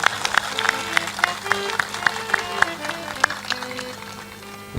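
Crowd at a Hindi spiritual discourse by Sant Shri Asang Dev Ji clapping in a steady rhythmic beat, moderately loud, with faint tonal voices underneath.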